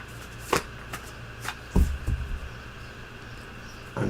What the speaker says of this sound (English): I'm going to shuffle first, I guess.